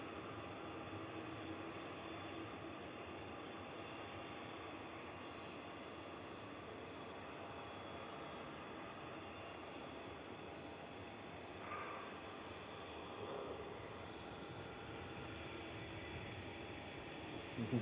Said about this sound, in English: Just watching the 777 taxi in.